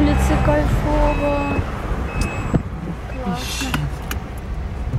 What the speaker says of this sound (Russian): не пристегнулся, естественно, оно пищит